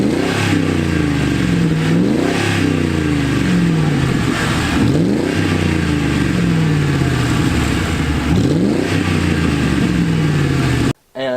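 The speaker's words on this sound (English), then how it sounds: "So now it's side exit exhaust with a nice little glass pack growl to it." A Ford Crown Victoria's side-exit exhaust with a glass pack muffler rumbles loudly as the engine revs repeatedly, pitch rising and falling in a deep, throaty growl, close by, before cutting off at the end.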